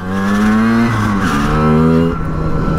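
A Simson moped engine revs up loudly and close by, its buzzing two-stroke tone climbing in pitch, dropping briefly between gear changes, then climbing again.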